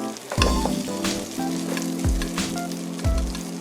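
Butter and oil sizzle and spit in a frying pan, a close, continuous crackling fry with a few low thumps and bumps from the pan as it cooks.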